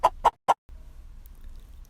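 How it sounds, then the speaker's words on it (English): A hen gives three quick, sharp clucks in a row close by, followed by faint low background noise. "It's a hen."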